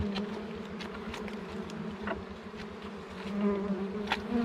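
Wild bees swarm around their large nest, a dense, continuous buzzing hum with individual insects zipping past close by, loud and steady throughout.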